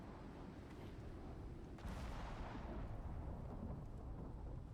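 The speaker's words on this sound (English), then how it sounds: "Oh, the lightning hit the rod." Thunder from a lightning strike hitting a lightning rod in a video game: a deep, broad rumble that swells sharply near the midpoint and rolls on steadily to the end, with no talking.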